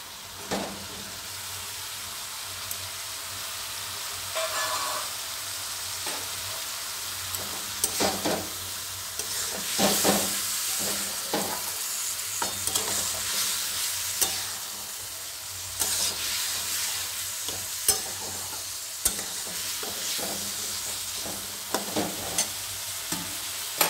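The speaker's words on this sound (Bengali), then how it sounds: "এবার আমি গ্রিন পিসটা দিয়ে দিচ্ছি।" Green peas frying in a hot pan: a steady, close sizzle throughout, broken by scattered scrapes and clatters of stirring.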